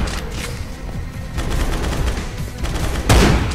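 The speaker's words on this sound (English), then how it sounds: "You can aim now with the shotgun." Shotgun blasts in the dinosaur game Primal Carnage Extinction, several booming shots amid busy in-game noise, with a louder, closer blast near the end.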